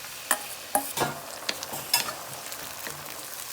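Tomatoes frying in a pan while being stirred, a soft continuous sizzle punctuated by several distinct spoon knocks and scrapes at irregular intervals, fairly quiet and close.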